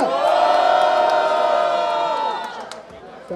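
Loud crowd at a freestyle rap battle at Roda Cultural da Rocinha roars and shouts in one sustained cheer, then fades over the last second.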